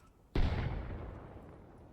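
In the video game Arma Reforger, a single mortar round strikes a city: one sudden, fairly distant boom followed by a long rumbling decay.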